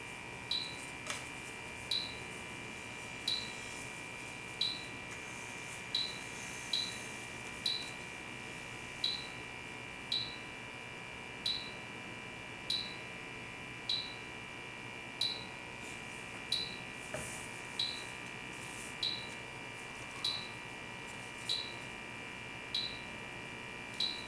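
A Bacharach H10Pro electronic refrigerant leak detector, set to parts-per-million sensitivity for R22, beeps in a steady, evenly spaced series of about twenty short high chirps over a faint constant hum, with no talking.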